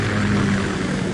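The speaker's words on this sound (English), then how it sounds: "Kasatka? Kamov chopper, right?" Rotor and engine drone of a KA-60 Kasatka Kamov helicopter in a Metal Gear video game, a steady, loud, continuous whirring hum with no break and no voices.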